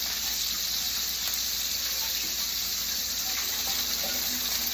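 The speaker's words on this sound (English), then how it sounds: "Listen to that steak sing." A steak sizzles steadily in a hot pan, a constant hissing crackle at even loudness with no breaks, close and alone.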